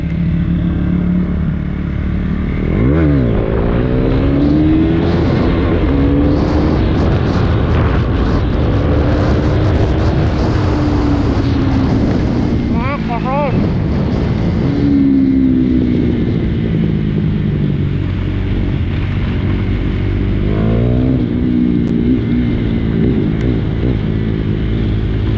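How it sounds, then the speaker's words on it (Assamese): A KTM Duke 390 motorcycle engine revs hard and loud throughout, pitch rising and falling in repeated surges as the bike lifts into a wheelie, with rough clattering roar close by. "ডিউক 390 চলোৱা মজা হুইলি এটা দিওঁ নেকি হুইলি"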